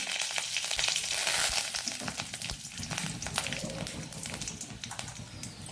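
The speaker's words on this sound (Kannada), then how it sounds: "ಸಾಸಿವೆ ಸಿಡಿಯುವಾಗ 1 ಮೆಣಸು, ರೆಡ್ ಚಿಲ್ಲಿ ಹಾಕ್ಕೊಳ್ತಿದ್ದೇನೆ. ಸ್ವಲ್ಪ ಕರಿಬೇವಿನ ಸೊಪ್ಪು" Mustard seeds, red chilli and curry leaves crackling in hot oil for carrot-tomato rasam, a dense close sizzle with many sharp pops throughout, slowly easing.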